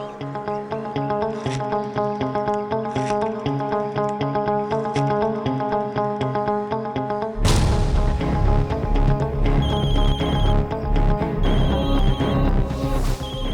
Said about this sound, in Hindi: मैंने इस फोन से अपने मोबाइल पर फोन किया था।